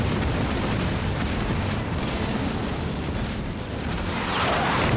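Anti-air turrets blowing up in the video game Halo Wars 2, a continuous dense rumble of booming explosions and battle noise, loud and steady throughout with no talk.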